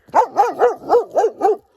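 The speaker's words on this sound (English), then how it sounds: "Here comes the dog, and he's going to bark a lot." A dog barks six times in a quick, even series, close and loud, with short gaps between the sharp barks and no talk over them.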